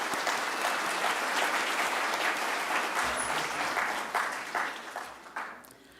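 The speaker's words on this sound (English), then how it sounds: "give you all a round of applause for all the great work that you do" An audience at a First Nations Guardians gathering breaks into sustained applause, a dense wash of many hands clapping that fades out over the last couple of seconds.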